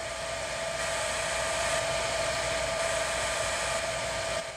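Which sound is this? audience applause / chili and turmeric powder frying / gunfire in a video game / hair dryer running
hair dryer running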